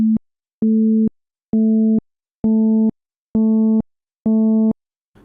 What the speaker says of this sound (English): Here's an example of that same A at 220 Hz,